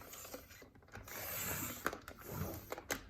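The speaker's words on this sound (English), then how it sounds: "This is the Creative Memories 12 by 12 trimmer, and I love it so much." A Creative Memories 12x12 paper trimmer cuts paper, giving a close, quiet mechanical slide and rasp with a few small clicks near the end.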